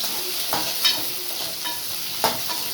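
Whole uncut onions sauté in hot oil, giving a constant close sizzle broken by a few light stirring clinks and scrapes of a spoon against the pan; nobody talks.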